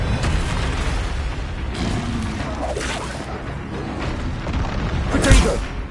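A Confringo blasting spell from Hogwarts Legacy goes off in a game fight, a deep booming blast with crackling debris over a busy background of rumbling effects, the strongest thump coming near the end.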